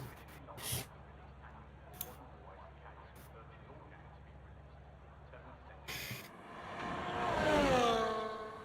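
An F1 race car in the video game F1 24 revs up and pulls out of the garage at Jeddah, its pitch climbing in the final seconds, after a stretch of low idle hum and a few sharp clicks.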